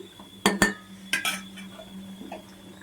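A metal spoon stirs tamarind pulusu stew in a pot, giving a couple of sharp clinks against the rim, then a second cluster of scraping knocks and softer taps over a low background hum.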